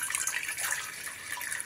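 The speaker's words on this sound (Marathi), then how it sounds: "तर त्याच्यासाठी आधी ह्या भांड्यात पाणी घालायचं." Water splashing and pouring into a cooking pot as it fills, a bright continuous trickle heard close up and alone.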